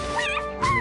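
Cartoon dogs yip and whimper in two quick high, whiny bursts, close and clear with no talk over them.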